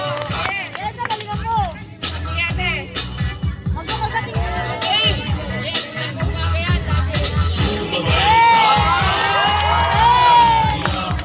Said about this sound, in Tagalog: Palakpak naman! Palakpak!